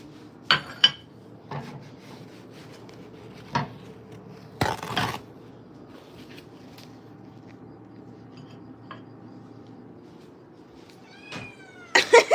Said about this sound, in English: My cat really be thinking that this is for her.